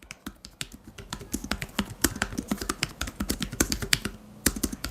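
Rapid, steady typing on a small Logitech Keys-To-Go 2 tablet keyboard, with crisp clicking keystrokes at close range and no voices.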